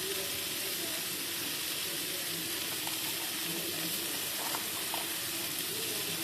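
Cumin seeds dropped into hot oil for a pumpkin and long bean dish, a steady, close, loud sizzle and fry hiss continuing throughout.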